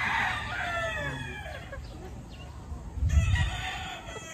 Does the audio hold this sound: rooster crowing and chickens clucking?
yes